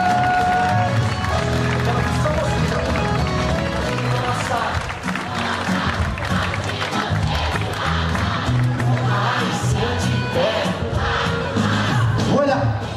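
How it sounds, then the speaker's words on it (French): Pageant audience at a Miss Marquise contest clapping for the contestants, a broad, steady roar of applause and crowd noise over music, with a voice talking through it. "nous pouvons vous applaudir spontanément"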